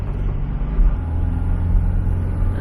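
Engine of a 1970 Volkswagen Karmann Ghia coupe shifting into second gear during a test drive, a steady low in-cabin rumble with a slight surge, no talk.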